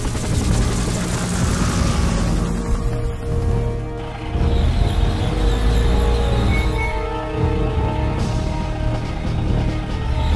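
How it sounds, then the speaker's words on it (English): A helicopter in a Command & Conquer Renegade cutscene: steady rotor roar and engine drone fill the scene, loud and constant, with a brief dip around the middle and layered battle rumble beneath. "We've got a chopper waiting."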